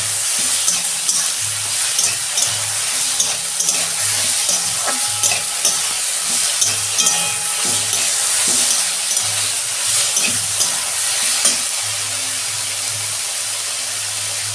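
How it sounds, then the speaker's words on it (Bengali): Onions and green chilies frying in hot oil, a steady crackling sizzle with occasional stirring scrapes, close and continuous, no talking. "এটাকে আমি ভালো করে ভাজা ভাজা করবো"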